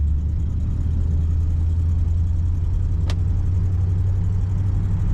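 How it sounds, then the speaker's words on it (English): A 1956 Cadillac Coupe DeVille's exhaust gives a steady, low, even hum while driving, constant and close with no voices, broken only by one brief faint click. "Just a low hum of that exhaust."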